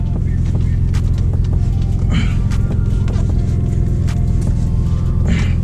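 A Nissan 370Z or 350Z VQ engine hums and rumbles steadily from inside the cabin while driving, with occasional clicks and knocks over the drone.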